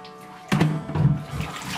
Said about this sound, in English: We're about to just pour it into the tub, see what kind of color we got.